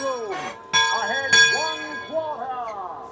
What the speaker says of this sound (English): That bell is really loud right here.